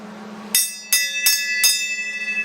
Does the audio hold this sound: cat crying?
no